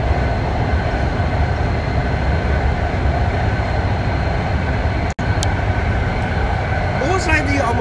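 A new BART Fleet of the Future eight-car train runs at speed toward downtown San Francisco, with a loud, steady rumble and hiss filling the cabin and a brief dropout partway through.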